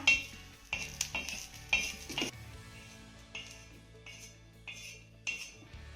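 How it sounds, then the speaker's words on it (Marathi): Garlic and ginger dry-roasting in a pan, with a spoon knocking and scraping against the metal in irregular clinks over a faint background sizzle. "आता हे लसूण आणि आलं देखील आपल्याला एक ते दोन मिनिटं चांगलं भाजून घ्यायचं आहे"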